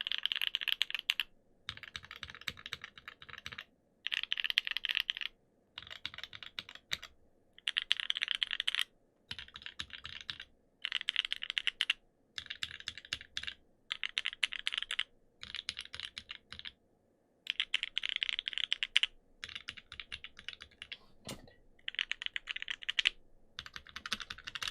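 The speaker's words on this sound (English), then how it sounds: "even though all polycarb and 43 Studio switches, they all sound different because of the mounting and the design of the keyboard" Bursts of typing on a mechanical keyboard with a polycarbonate plate and 43 Studio switches, sharp clacky keystrokes in rapid runs separated by short pauses, close and clear with no talking.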